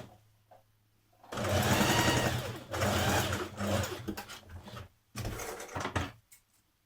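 A sewing machine stitches down either side of a formal skirt yoke in loud, fast bursts, starting and stopping several times with short pauses between runs.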